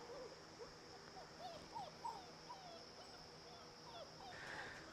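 A six-week-old livestock guardian dog puppy gives soft, high whimpers and faint yips, quiet and close, over a steady low background hum.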